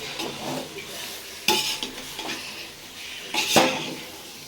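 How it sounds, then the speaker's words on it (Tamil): Chicken being stirred into a pot for biryani, with a few distinct scraping strokes of a spoon against the pot and a soft sizzle between them, close and alone without talk. "முக்கால் கிலோ சிக்கன் சேர்த்துக்கிறேன் கலந்துக்கிட்டுக்கலாம்"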